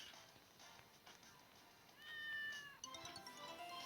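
A cat meows a few times in Roblox, with one drawn-out meow in the middle and shorter ones after, over soft background music.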